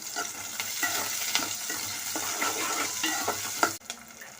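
Onions and green chilies fry in a pan for aloo kurma, a steady loud sizzle broken by scraping stirs, close and continuous with a brief clatter near the end.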